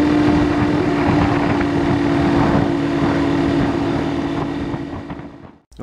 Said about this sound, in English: These tires are really noisy.